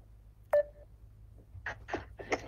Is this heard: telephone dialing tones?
yes